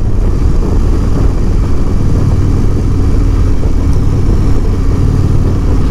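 A 2022 Indian Roadmaster motorcycle engine runs under throttle as a steady, loud, close rumble that holds strong for the whole stretch, with no talking.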